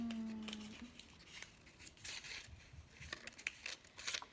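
Scissors snip through paper while cutting a triangle for a homemade paper rocket, a series of faint, close, crisp cuts with light rustling, no speech.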